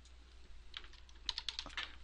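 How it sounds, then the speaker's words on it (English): Quiet clicking keystrokes on a computer keyboard as text is entered, a short uneven run of taps over a steady low hum, with no speech. "we're just going to type some text in here."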